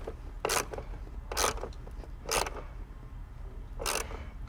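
A hand thumb ratchet tightening a bolt during an engine install on a Foxbody Mustang, four short raspy clicking bursts spaced about a second apart, close and fairly quiet, with no talk.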